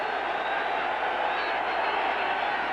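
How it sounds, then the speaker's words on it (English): A football stadium crowd roars steadily to spur on the New York Jets defense in a 1992 game against the Cincinnati Bengals, a dense, continuous wash of distant cheering with a broadcast voice faintly mixed in. "Crowd trying to encourage the defense."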